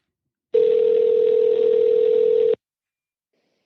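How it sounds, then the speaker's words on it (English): A telephone tone sounds as one loud, steady, unbroken hum for about two seconds, then cuts off abruptly into silence, with no voices. "So let me see if I could get Acacia on the phone"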